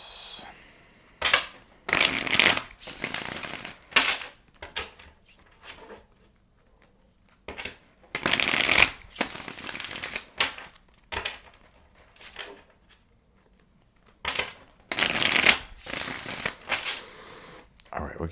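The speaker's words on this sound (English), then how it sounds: "Last shuffle for Aquarius." Tarot cards are shuffled by hand in repeated crisp riffling bursts, each lasting a second or two and separated by quiet gaps, close and clear.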